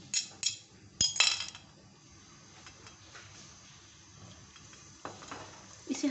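Finely chopped garlic frying in about two tablespoons of oil, a faint sizzle under intermittent metal clinks of a spoon against the pan, with sharp knocks near the start and later.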